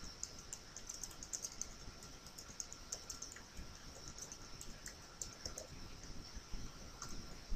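Steady typing on a computer keyboard while a WordPress membership site is built, a continuous patter of light, close key clicks over a faint background hiss, with no one speaking.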